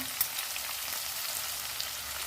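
Chopped spiny gourd fries in hot oil with turmeric, garlic chutney, red chilli powder and salt, giving a steady, dense close-up sizzle with no talk.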